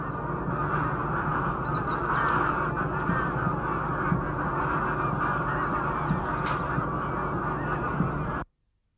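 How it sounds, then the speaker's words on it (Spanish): A goose and a duck call together outdoors: loud repeated honks and harsher quacks overlap continuously for about eight seconds before the sound cuts off abruptly, with no talking. "para distinguir un pato y un ganso juntos es muy sencillo"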